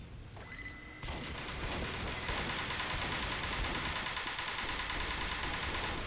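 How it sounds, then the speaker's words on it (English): Sentry gun in Pre-Fortress 2, the TF2 beta, firing a continuous rapid burst of gunfire after a few mechanical beeps, loud and dense throughout, with no voices. "Sounds like a sentry."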